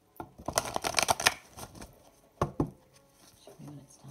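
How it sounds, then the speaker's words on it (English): Tarot-style reading cards riffle in a quick flurry of crisp snaps, then a couple of separate taps, close up and fairly loud against quiet background. "I love the way these cards shuffle"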